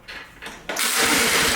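Small pull-start engine being cranked over, a couple of short mechanical rattles followed by a loud rushing whir as the engine spins, close and brief.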